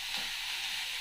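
Curry leaves fry in hot oil as they are stirred in a pan, producing a brief, dense and even sizzle that sounds close and continuous.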